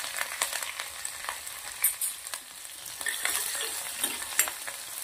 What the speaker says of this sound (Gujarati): તેલના અંદર સોતે કરી લેશું, સાંતળી લેશું